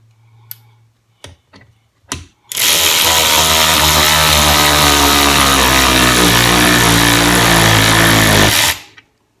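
A 16V cordless long neck ratchet drives a bigger bolt: a few short clicks and bursts first, then one loud sustained whirring drive for about six seconds before it stops abruptly.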